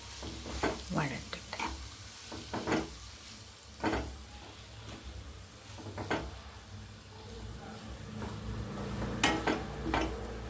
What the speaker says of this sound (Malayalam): ചൂടായ എണ്ണയിൽക്കിടുന്നൊന്ന് വഴറ്റിട്ട്